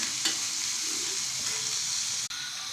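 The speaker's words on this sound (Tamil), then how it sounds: "எண்ணெய். இப்போ வதக்கணும்." Garlic, ginger and green chili sautéing in hot oil for a chutney, giving a steady loud close sizzle that runs without a break, with one brief dropout near the end and no voices.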